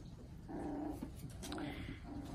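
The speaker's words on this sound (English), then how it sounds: "I think that you're starting to maul this Ella puppy" Puppies at play on a wooden deck, giving low, continuous growls and rumbling grumbles that sound close by and moderately loud, with no talking over them.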